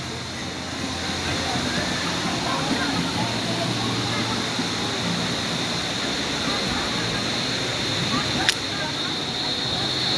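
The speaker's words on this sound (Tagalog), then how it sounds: "So, St. Catherine Falls." Steady broadband roar of St. Catherine Falls, a waterfall in Barangay Basag, T'boli, continuous and fairly loud throughout with no break, one brief sharp click near the end.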